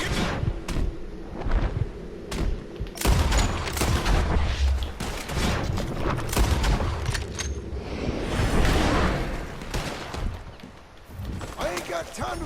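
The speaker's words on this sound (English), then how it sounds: "Hell, Jim, you can shoot." Gunfire in the Western video game Red Dead Redemption 2, with repeated loud shots and hoofbeat-like clatter running throughout, over a busy game soundtrack with voices talking.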